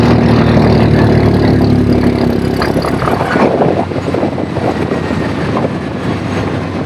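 The engine of a side-by-side utility vehicle runs in reverse, held down by its rev limiter. It gives a loud, steady mechanical drone that turns rougher and choppier about halfway through, with no talking.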